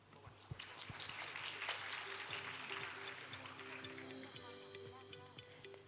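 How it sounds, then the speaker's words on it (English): Lecture audience applauding after two video presentations, a dense steady wash of clapping from many hands in a large hall, sustained for several seconds with no break. "Please give a big round of applause for both video presentations."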